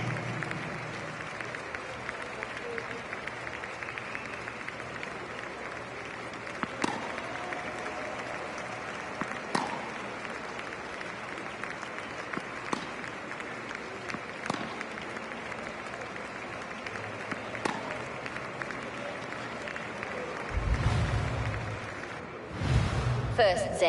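Crowd applause at a tennis court in the video game Topspin 2K25 runs steadily through the clip, a dense, continuous patter under an arena announcer's voice, swelling louder near the end.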